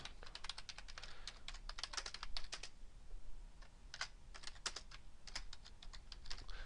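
Rapid clicking of a computer keyboard while entering text into an Excel 2010 spreadsheet, crisp close keystrokes in quick bursts with short pauses, no talking.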